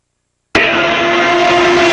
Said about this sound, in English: So you see as it's coming towards you, the pitch is getting higher, right? And then it drops as it goes away.